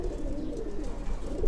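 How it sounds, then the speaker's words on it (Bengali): Pigeons in a home loft coo in a low, continuous rolling murmur, several birds overlapping steadily at close range with no speech. "আমাদের কিন্তু এতগুলো কবুতরের ভিতরে আলহামদুলিল্লাহ 3টা উড়নো গররা কবুতর আছে"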